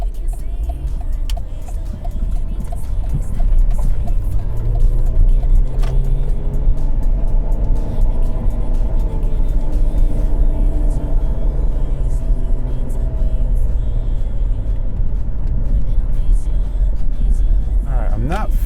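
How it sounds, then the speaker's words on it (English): Cadillac CTS on its first test drive, a steady loud engine and road rumble from inside the cabin that builds slightly and holds throughout, with talk over it. "now we're gonna go on the first drive to see how this thing shifts."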